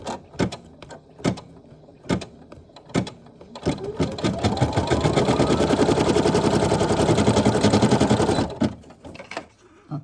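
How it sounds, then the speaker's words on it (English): Embroidery machine stitching onto pet luggage, a sustained rapid mechanical whirring of needle strokes that runs for several seconds, framed by a few sharp clicks and taps before and after. "And I hold the thread, press for it to embroider."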